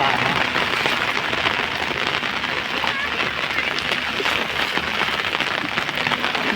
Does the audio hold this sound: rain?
yes